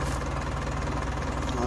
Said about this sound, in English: We will switch the tractor off there